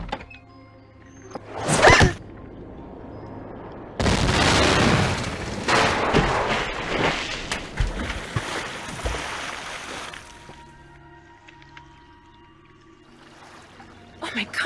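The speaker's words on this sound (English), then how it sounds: "whoever threw that ice ball at me must have set off an explosion that shattered the ice" Loud booming burst of ice shattering from an explosion in the Nancy Drew game The White Wolf of Icicle Creek, a sharp crack followed by several seconds of heavy crashing and rumbling debris, fading into quiet ambience.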